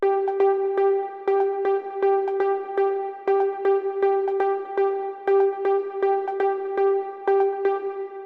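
Rhythmic Afro house saw synth leads from the Cliffs plugin, short repeated plucky notes in a syncopated pattern with a sustained droning tone underneath, steady and mid-level, no voices.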